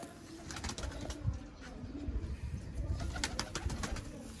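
Sialkoti breeder pigeons coo softly with low, rolling calls and scattered chirps, heard at a moderate distance over a faint, steady background hum.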